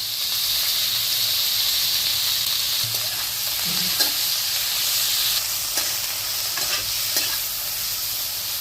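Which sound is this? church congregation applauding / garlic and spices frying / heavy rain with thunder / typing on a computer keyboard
garlic and spices frying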